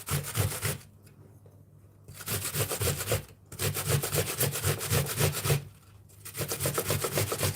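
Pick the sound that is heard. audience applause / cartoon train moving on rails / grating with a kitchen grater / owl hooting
grating with a kitchen grater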